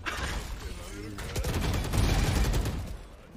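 Video game gunfire crackles in quick bursts of shots, mid-distance and fairly dense, while a player's voice talks over the action.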